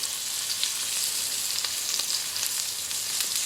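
A steady, bright sizzle of butter melting over a steak in a hot pan hisses continuously and close by, with no voices.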